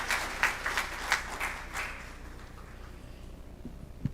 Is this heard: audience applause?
yes